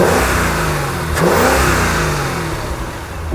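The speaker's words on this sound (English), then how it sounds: "Hit it, rev it." A Mercedes-AMG engine with a supercharger blower revs hard in a close, loud burst that climbs and peaks near the middle, then holds a steady throaty drone.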